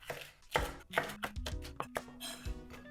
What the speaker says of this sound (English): Then the shishito peppers, I'm gonna cut in half.